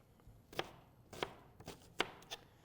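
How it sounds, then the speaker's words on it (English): A kitchen knife chops onions on a cutting board in four or five sharp, close knocks spaced irregularly, with a quiet room behind them and no talking. "I've gotten so much better at chopping onions from doing this show."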